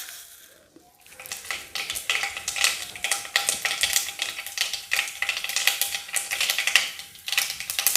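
Mustard seeds spluttering in hot oil in a kadai while tempering for a papaya stir-fry: a quiet second, then dense, continuous crackling and popping that rises and stays busy and close.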